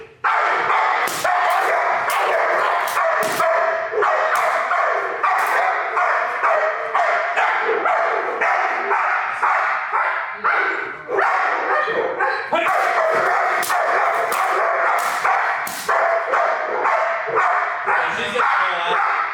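A protection dog in bite training barks repeatedly and loudly up close, with whines and yips between bursts, while a person talks and grunts over the commotion throughout.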